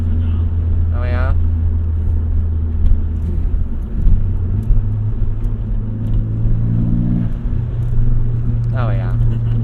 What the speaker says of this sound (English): Definitely get more blow off valve noise.